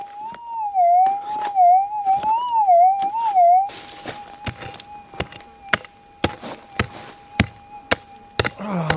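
At an abandoned gold mine, a metal detector held over a dug hole containing gold gives a warbling electronic tone, then a steadier held tone, punctuated by sharp chopping thuds of digging.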